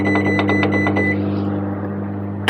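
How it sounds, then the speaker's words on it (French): A microwave oven started remotely to reheat lasagne, powered by a home energy station, hums steadily with a constant low drone and faint beeps early on, ending in a sharp clunk. "Allume le micro-ondes."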